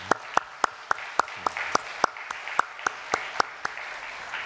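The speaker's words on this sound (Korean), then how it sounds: "우리 청년들 참 격려하는 마음으로 다시 한번 박수하겠습니다" A church congregation claps for the young adults after a praise song, a slow, steady rhythm of roughly a dozen distinct, evenly spaced claps with a quieter patter of others underneath.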